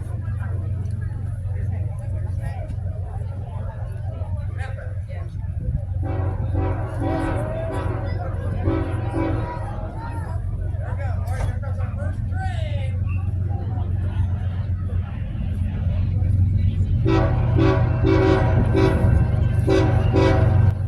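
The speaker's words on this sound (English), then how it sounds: "Might have been one of the greatest horn salutes I've heard in my life." A freight train horn blasts in long, repeated salutes over the steady rumble of a passing train in Ashland, Virginia, loud and close.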